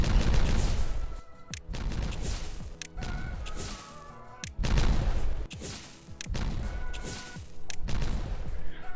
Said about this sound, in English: we've got all of the dynamite in, it looks like. So we can now detonate all of this.